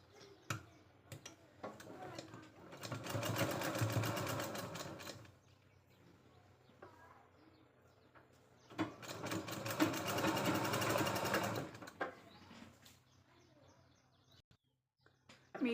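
A sewing machine stitches a katori blouse in two sustained runs of rapid mechanical whirring, each lasting a few seconds and separated by quieter pauses with light clicks and handling sounds.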